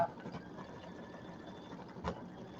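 An embroidery machine stitching through a quilt block, a faint steady mechanical whir with rapid needle pulsing, heard at a distance with a brief louder knock near the end.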